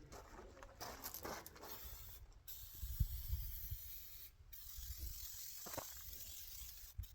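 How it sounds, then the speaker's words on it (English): Easy-Off oven cleaner sprayed onto engine parts from an F100 project, a steady close hiss of aerosol spray broken by short pauses and light handling noises. "I've got easy off oven cleaner and I got a power washer. So we're gonna get this thing soaked down"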